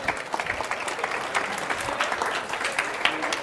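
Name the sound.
audience applause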